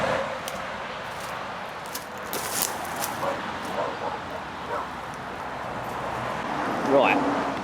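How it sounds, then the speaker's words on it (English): Small yappy dogs bark and yip intermittently in the background during an outdoor walk, a short sharp burst standing out near the end, with people talking throughout. "Yappy dogs everywhere."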